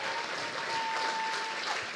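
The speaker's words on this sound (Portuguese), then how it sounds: "let's give one last round of applause for all these volunteers" An audience applauds volunteers at a church service, a dense, even wash of clapping held steady for a couple of seconds at moderate distance.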